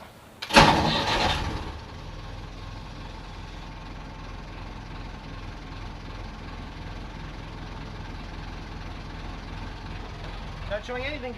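An old wooden boat's engine cranks briefly and catches, then settles into a steady low idle that runs on, with a faint rattle near the end.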